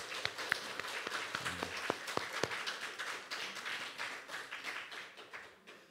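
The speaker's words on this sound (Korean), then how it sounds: "다시 한번 우리 환영의 박수를" Welcoming applause from a church congregation during a service, a steady patter of many hands clapping at moderate distance, with a few sharper individual claps early on, gradually thinning toward the end.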